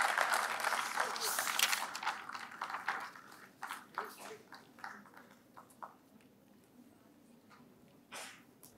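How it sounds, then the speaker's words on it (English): An audience at a university research and innovation awards ceremony claps for the chief guest. Dense applause starts loud, then thins into scattered claps that fade out, with a few late claps near the end. "A big round of applause for our Chief Guest of the day, Professor Prem Vrat."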